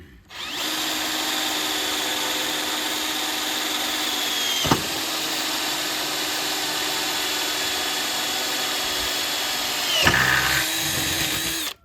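A Harbor Freight power drill runs steadily while drilling through metal for a gate, a continuous whining motor drone with two brief bites or catches partway through, close and loud with no talk.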